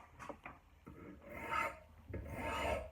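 Steel cant file worked back and forth across the top of an axe edge, finishing a small micro bevel; several close, loud rasping strokes in bursts, with no talking.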